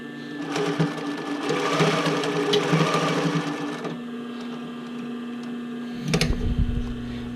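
A sewing machine stitches bra cups into the band of a bra, its needle offset, whirring rapidly and close for about four seconds, then idling with a hum before a short clunky burst of handling.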